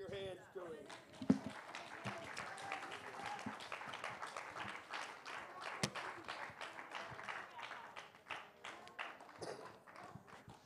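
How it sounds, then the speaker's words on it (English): A church congregation claps hands together during a worship service, a dense, continuous patter of many hands close by for about ten seconds, mixed with scattered voices and shouts. "Clap your hands."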